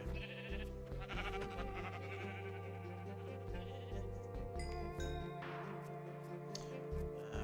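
Blocky sheep bleats from the video game Minecraft, several short cries repeating over a busy game soundtrack with music and other effects layered underneath.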